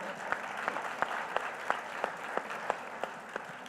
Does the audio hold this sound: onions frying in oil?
no